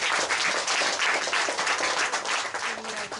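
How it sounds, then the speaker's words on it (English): An audience breaks into sustained applause, a thick, even wash of many hands clapping together throughout, honoring a man being praised at a gathering. "He deserves a round of applause."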